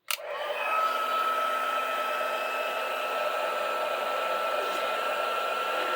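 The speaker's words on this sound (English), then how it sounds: "I'm going to bring in my heat tool, and this is going to be loud and it's going to take a few moments" Handheld heat tool used for card crafting with faux metal effects, switching on with a click and then blowing a loud, steady whir with a thin whine, close and constant for several seconds, no talking.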